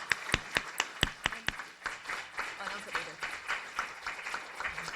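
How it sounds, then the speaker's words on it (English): Clapping at a state legislation session, starting with a few distinct sharp claps that spread into a softer, thinner round of applause, fairly faint and with a voice talking over it. "If we can give them a round of applause."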